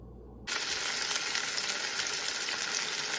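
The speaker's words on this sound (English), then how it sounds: "I'm going to go ahead and cook my broccoli" Broccoli hits a hot pan and breaks into a loud, steady sizzle that holds at even strength after a quiet opening moment, close and unbroken.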